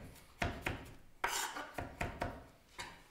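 A knife chops garlic coarsely on a board in a home kitchen, giving about eight sharp, close taps in an uneven rhythm with short gaps between them.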